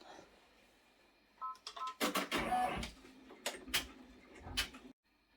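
A 10-needle embroidery machine runs a placement stitch for appliqué, giving a close burst of rapid mechanical ticking and clatter that starts and stops in short runs with brief beeps, then cuts off near the end.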